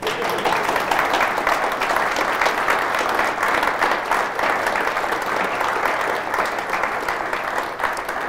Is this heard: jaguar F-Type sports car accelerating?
no